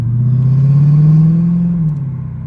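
A 2021 car accelerating, with its engine note rising into a steady loud drone and a faint rattle that may come from the exhaust, close and with no talk over it.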